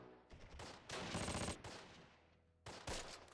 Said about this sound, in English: they're just blind firing in the middle of the street